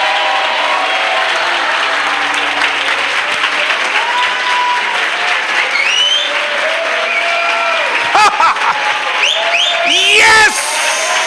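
Church congregation applauding steadily for about ten seconds, a loud, dense wash of clapping with scattered cheers and voices rising through it, continuing close and sustained throughout.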